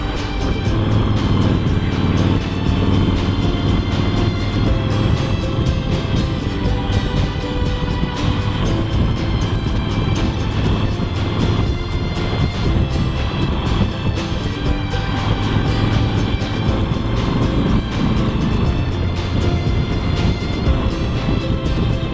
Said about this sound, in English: Man, this is all the freaking traffic.